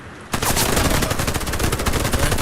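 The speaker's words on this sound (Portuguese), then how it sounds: "eu escutei tiro" Machine gun fire in the video game Warface: a loud, sustained burst of rapid automatic shots starting abruptly after a brief quiet moment and continuing without pause.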